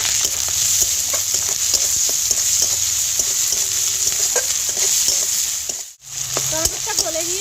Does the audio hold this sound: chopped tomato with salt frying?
yes